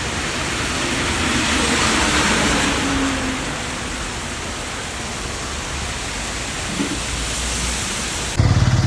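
Heavy steady rain around a church in Tanur, Kerala, a broad dense hiss that continues unbroken, with a faint low rumble partway through and a sudden shift near the end.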